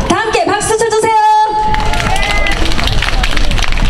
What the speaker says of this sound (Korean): 다 함께 박수 쳐주세요.